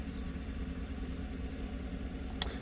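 A 2015 Chevy Silverado with a throttle body fault idles low and steady, a close, even engine rumble that holds throughout, broken once near the end by a brief sharp click.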